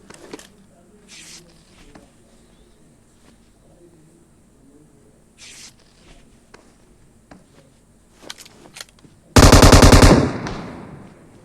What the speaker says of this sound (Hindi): फिर मेरा टीममेट गोलियां चला रहा होता है